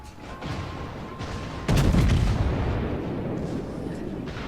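Secondary guns of a Montana battleship firing in World of Warships: a sharp loud boom erupts midway over steady rumbling battle ambience, then fades into a lingering roar.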